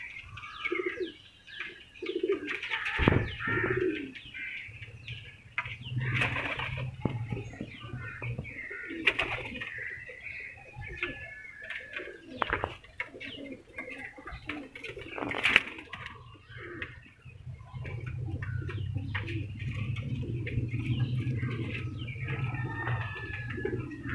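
Pigeons kept by a fancier coo softly and repeatedly in a loft, their low throaty calls overlapping with scattered chirps and occasional wing flutters, fairly quiet and nearby.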